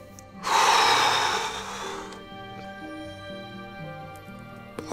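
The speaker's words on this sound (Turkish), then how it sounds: "Derin derin nefes al kardeşim." A man draws a deep, heavy breath in a Turkish drama scene, a single loud, rushing inhale about a second and a half long, then softer breathing over low background music.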